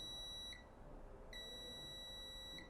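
Continuity beeps from a multimeter probing a phone circuit board, two steady high tones, the first cut off after about half a second and a second longer one, quiet and without talk.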